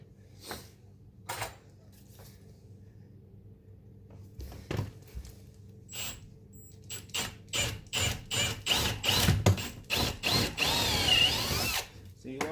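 A power drill whirs into a door frame in short separate bursts at first, then in quicker repeated pulses that run together into a longer continuous drilling.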